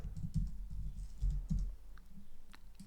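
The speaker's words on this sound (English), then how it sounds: "now type your header" Typing on a computer keyboard, a run of soft close key clicks in uneven bursts, quiet and alone without speech.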